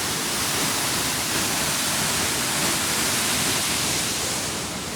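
Sundrawati waterfall roars in a steady, dense wash of falling water, loud and unbroken throughout, heard from close by near a bridge.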